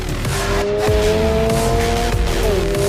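A 2022 Subaru BRZ sports car engine roars loud and close, its revving tone shifting as it pulls hard, with a hint of tire noise.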